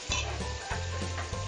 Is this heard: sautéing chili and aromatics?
yes